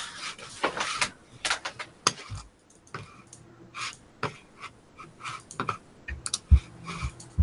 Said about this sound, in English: Are you typing away, Rachel?